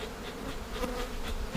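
A dense swarm of thousands of bees buzzing steadily all around during a beehive inspection, a continuous droning hum with no talking.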